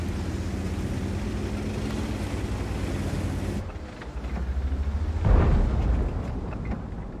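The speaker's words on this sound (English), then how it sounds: "Shoot, that IS-3-2 just got destroyed." IS-3-2 tank being destroyed in World of Tanks, a loud, rumbling explosion that swells over a constant low engine drone and ends in a heavy, booming burst near the end.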